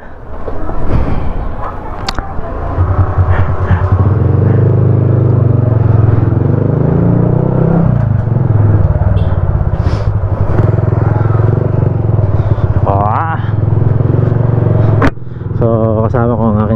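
A Suzuki Burgman 125 scooter rides along a road with a steady, loud engine drone that rises and falls in pitch, with clatter and wind noise; people talk over it.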